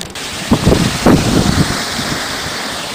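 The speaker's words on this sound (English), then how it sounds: "we got some nice winds down here" Night wind blowing hard outdoors, a loud, continuous rushing roar with a few stronger gusts buffeting the microphone.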